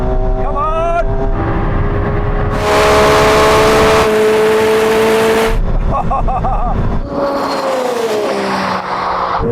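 Lamborghini Revuelto and McLaren 750S accelerating from 50 mph in third gear, loud revving engines rising in pitch with a roaring pass and gearshifts, a voice briefly over the noise.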